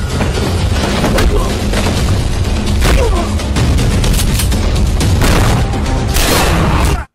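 Gunfire in an action film, a dense and loud barrage of shots and booms running continuously through a dramatic mix of sound effects and music.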